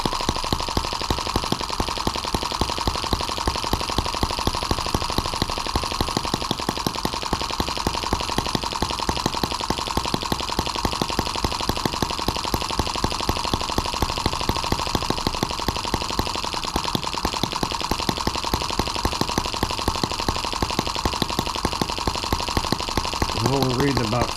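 A Chinese M17B engine idles roughly and loudly, close by, with a fast, even chugging pulse that holds steady throughout.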